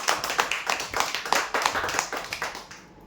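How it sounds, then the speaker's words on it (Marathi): An audience at a prize draw claps in a brisk, even burst of applause that tapers off within a few seconds, with no voices over it. "जोरदार टाळ्या होते यांच्यासाठी"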